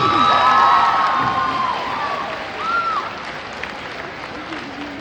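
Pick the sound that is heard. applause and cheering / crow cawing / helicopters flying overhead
applause and cheering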